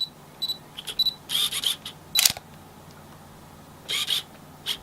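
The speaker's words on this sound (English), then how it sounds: "the sound of the autofocus motor on this thing" A Canon EOS 1100D camera's autofocus motor makes short whirring and buzzing bursts alongside focus-confirmation beeps, several separate bursts that are close and fairly faint in a quiet room.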